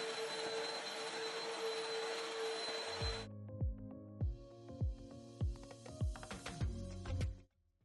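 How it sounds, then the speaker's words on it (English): A vacuum cleaner whirs loudly and steadily for about three seconds, then shuts off, followed by a series of dull rhythmic thuds. "And then I'm able to vacuum this section of the floor."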